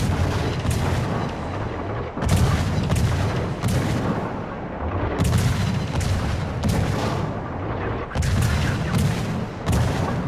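Repeated heavy naval gunfire from an IJN Akizuki destroyer in World of Warships, booming salvos in a steady rhythm against a German battle cruiser, loud and dense with rumbling sustain between blasts and no talk.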